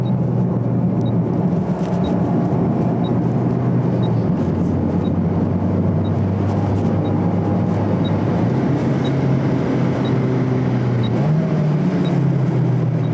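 A front-wheel-drive car lapping the wet Tsukuba circuit, its engine droning loudly and continuously from inside the cabin, pitch rising and falling with throttle and gear changes.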